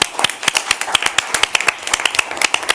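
Applause at a Commission for Behavioral Health meeting: a brisk, even run of close claps from a small group, continuous and fairly loud for a few seconds.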